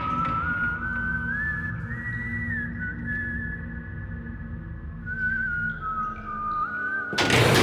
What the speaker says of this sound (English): hearing that whistling just kind of made me feel like that validated my feelings